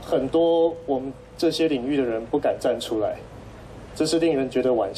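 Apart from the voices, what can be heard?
None of the usual background noises is heard.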